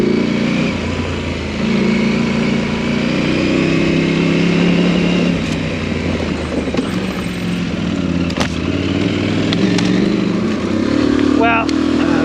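A 250 dirt bike engine climbing a long trail hill, a steady, loud, buzzing drone held throughout under a voice talking.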